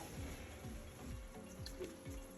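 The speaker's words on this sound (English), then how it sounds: "This is when we put the other 5 quarts of water in now." Five quarts of water pour into a pot of seafood gumbo, a quiet, steady splashing and gurgling with a rhythmic bubbling pulse and no talking.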